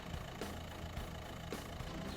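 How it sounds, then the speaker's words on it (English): An Oldsmobile diesel V8 idles with a lumpy, uneven low rumble and periodic knocking pulses, steady and fairly quiet without voices. "a diesel engine from an Oldsmobile"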